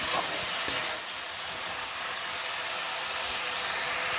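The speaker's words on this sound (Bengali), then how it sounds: "খুব ভালো করে নাড়িয়ে নিয়ে একটা ঢাকা আমি এর মধ্যে দিয়ে দেব" Washed potato greens stirred in a hot cooking pan, a steady close sizzle and hiss with a brief clink of a utensil near the start, no talking.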